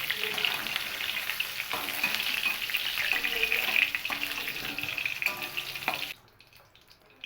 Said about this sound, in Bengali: দেখুন, পটলগুলো আমার পুরোপুরি ভেজে নেওয়া হয়ে গেছে।